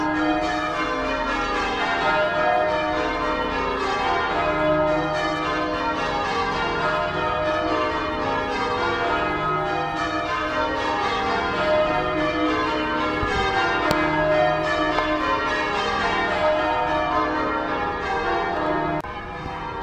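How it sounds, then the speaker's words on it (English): Church bells peal continuously, overlapping tones ringing out steadily and fairly loud throughout, with no voices. "So the bells are still going."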